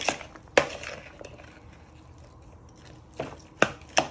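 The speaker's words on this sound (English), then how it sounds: "you're just giving it a good mix, and don't forget to get all the way around the sides and also the bottom" Pulled pork wrap filling mixed in a bowl, a handful of sharp knocks and wet scrapes of a utensil against the bowl's sides separated by quiet pauses.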